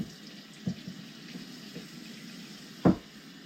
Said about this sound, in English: run your fingers through it, pour the water out, and keep doing that until the water looks clear